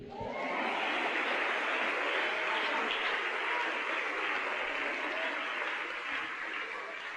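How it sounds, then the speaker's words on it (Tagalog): A congregation applauds at a church service, a dense, sustained wash of clapping from many hands that stays loud throughout and eases slightly at the end. "Kayong ngayon lang pumalakpak, huli na kayo."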